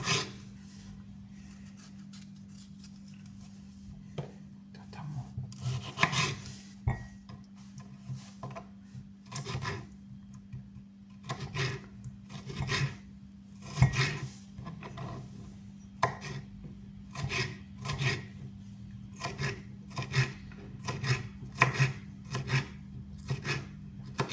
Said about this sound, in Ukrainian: Беремо помідор і теж ріжемо дрібненько його.